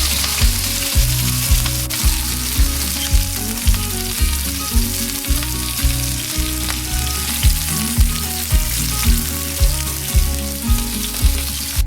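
Steaks searing in a hot pan with rosemary and thyme give a loud, steady sizzle, with regular crackling pulses rising and falling throughout.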